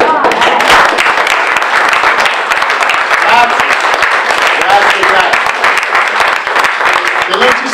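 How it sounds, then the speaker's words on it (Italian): Sustained applause fills a theatre during a Women's Day show, a dense, steady wash of many hands clapping close and loud, with scattered voices mixed into the crowd noise throughout. "allora l'applauso adesso ve lo faccio io a voi"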